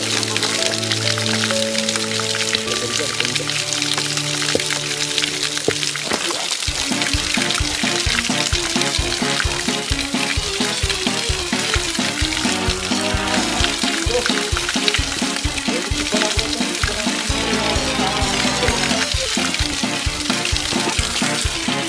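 Water rushing at the Saptasajya waterfall, a constant loud hiss and splash that fills the whole clip, with some rhythmic thumping and faint voices beneath the roar.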